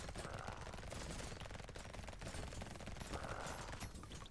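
Rapid, continuous gunfire-like bursts from a Gatling laser weapon in the video game Brotato, dense and loud throughout with a steady rattling rhythm.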